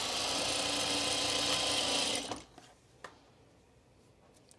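A sewing machine stitches stretched, taut fabric with a steady close whirring hum for about two seconds, then stops abruptly, leaving faint clicks and handling noises.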